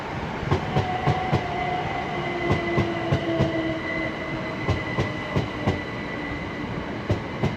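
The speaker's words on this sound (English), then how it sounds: "the 1125 Great Western Railway service from Didcot Parkway to London Paddington" A Great Western Railway passenger train, class 136 and 167 units, rolls past nearby at Slough, wheels clacking rhythmically over rail joints with a faint high squeal above the steady rumble.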